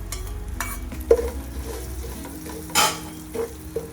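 Poha chivda with red chili powder is stirred and sautéed in a pan, a steady close sizzle broken by scraping and light clinks of the spoon against the pan.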